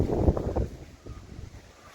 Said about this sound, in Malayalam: ഇവിടെ കാറ്റാട്ടോ